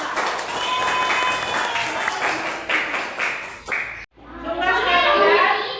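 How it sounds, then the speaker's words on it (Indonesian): Schoolchildren in a classroom clap for a student group, a dense burst of applause that stops abruptly, followed by a few children's voices. "tepuk tangan untuk kelompok 2"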